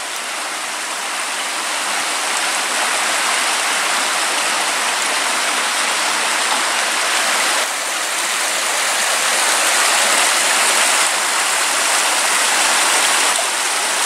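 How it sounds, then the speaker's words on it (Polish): The Bystrzyca Łomnicka river rushes over its bed just past the village of Młoty in the Bystrzyckie Mountains on a hot summer afternoon, a steady, close, full-bodied roar of flowing water that continues unbroken throughout. "Fragment rzeki Bystrzycy Łomnickiej,"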